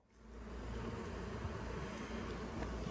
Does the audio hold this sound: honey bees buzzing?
yes